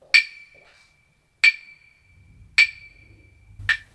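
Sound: acoustic claves wooden sticks

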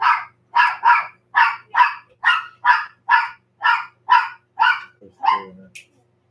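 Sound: dog barking

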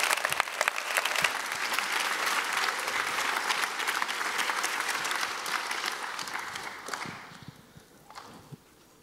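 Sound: applause

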